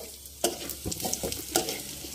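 Chopped onions fry in oil in a pan for chicken biryani, a soft sizzle broken by a few sharp stirring scrapes, close and fairly quiet with no voices.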